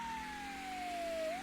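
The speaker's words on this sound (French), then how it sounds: "Déjà, on a la sirène." A toy fire engine's electronic siren wails steadily, a single thin tone sliding slowly downward then rising at the end, loud and close against faint background hiss.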